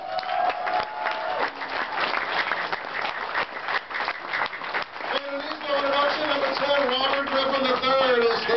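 Audience at Redskins Park applauding football players, continuous close clapping with some cheers, joined later by a voice speaking over it.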